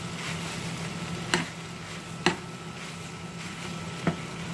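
Noodles with cooked egg being stirred in a frying pan, a soft continuous sizzle with three sharp utensil taps against the pan spaced across the stretch.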